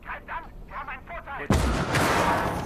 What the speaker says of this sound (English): medium smoke barrage, and medium and heavy artillery barrage